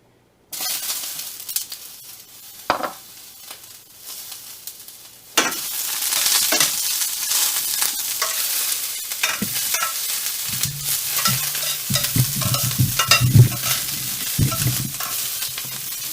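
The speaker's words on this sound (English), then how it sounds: "Turn that pan down now, and I'm going to throw in our peppers." Peppers tossed into a pan with a little sesame oil over turned-down heat, a quiet start bursting into loud, sustained sizzling with repeated stirring scrapes and clatters close by, no talking.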